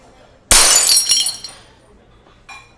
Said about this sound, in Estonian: Ja klaas kukkus maha.